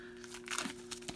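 Turok game packaging for Nintendo Switch being unwrapped, with a few quiet plastic crinkles and rustles over a steady low hum, close and soft.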